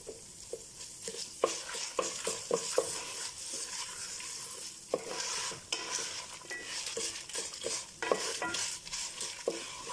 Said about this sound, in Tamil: இதையும் போட்டு ஃப்ரை பண்ணிக்கலாம். அந்த ஈரப்பதம் போகிற வரைக்கும் ஃப்ரை பண்ணுங்கள் புளி.